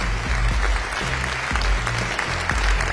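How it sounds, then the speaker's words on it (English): An audience breaks into sustained applause, a dense steady patter of many hands clapping at close range throughout, with a few faint voices mixed in. "a big round of applause"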